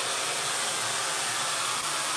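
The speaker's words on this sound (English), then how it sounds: "This blow dryer is really hot." A hot blow dryer runs steadily at close range, a continuous loud airy whoosh with no pauses and no talking.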